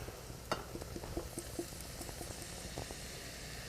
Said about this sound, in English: this gorgeous pan of chanterelles is now gonna go in, and we're just gonna saute them rather briefly